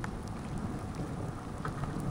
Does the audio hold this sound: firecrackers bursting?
no